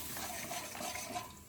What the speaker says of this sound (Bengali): এবার পরিমাণ মতো একটু জল দিয়ে দেবো।